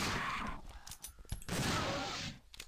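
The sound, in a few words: rapid gunfire in video game Dino Crisis 2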